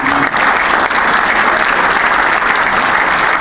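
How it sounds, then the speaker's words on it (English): Dense, steady applause from an audience at a film critics society presentation gala, many hands clapping at once in a continuous loud wash with no breaks, close-up and filling the room. "So a round of applause, please,"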